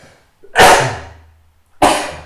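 Two sharp sneezes from a person at a tabletop board game session, close and loud, each a sudden burst trailing off, about a second apart.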